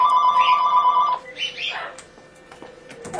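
A telephone rings at a bird clinic with repeated electronic trills for about a second, then breaks off, leaving quieter room noise with faint chirps and clatter.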